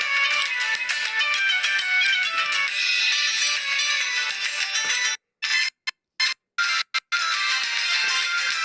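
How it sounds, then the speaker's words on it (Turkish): A mobile phone plays a bright, melodic ringtone continuously for several seconds, then cuts out in a few abrupt silent gaps before resuming, with no voices over it. "Benim telefonum."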